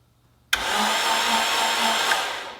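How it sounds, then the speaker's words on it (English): A Honda Civic EM1 engine cranks briefly after sitting silent, a loud steady whirring churn lasting about two seconds with an abrupt start and a fading finish, heard alone without talk. "She cranks, and we know it has good compression because our coil packs went flying."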